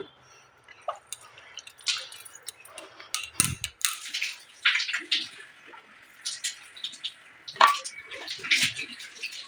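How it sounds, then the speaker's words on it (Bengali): Soybean chunks are washed in water through a tea strainer, giving close, irregular splashes, sloshes and drips in quick bursts, with no clear talking. "চায়ের ছাঁকুনি দিয়ে এই অল্প কয়েকটা ধুবো, আর এটার মধ্যে দিয়ে ধুয়ে নেবো।"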